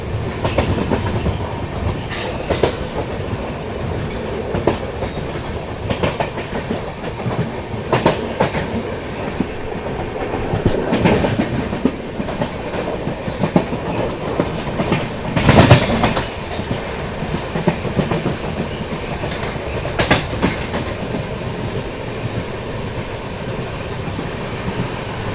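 Swarn Jayanti Rajdhani express train running fast on rails past a skipped junction, with continuous loud rumbling and rhythmic clickety-clack of wheels over joints, occasional sharper clanks and surges, no talk.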